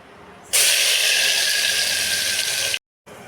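Ground masala paste hits hot oil with toasted cumin in a pan for chana masala gravy, bursting into a loud, steady hiss of sizzling that holds for about two seconds before cutting off abruptly, close and alone.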